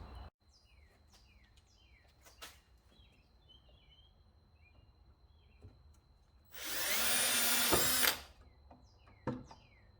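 Power drill driving screws into pocket holes on a 2x4 table, one loud, close whirring burst of about two seconds, plus a few sharp knocks, with birds chirping faintly in the background.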